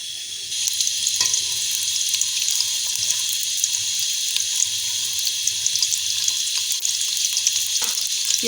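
A steady, hissing sizzle of onions frying in hot ghee, with occasional pops and crackles throughout.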